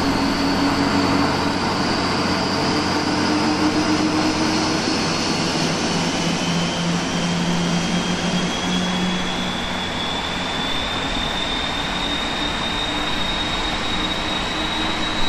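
Four-engine PMDG 747-400F jet engines spooling up in the Prepar3D flight simulator, a loud, steady roar with a slowly rising whine heard from outside the airliner, continuous throughout.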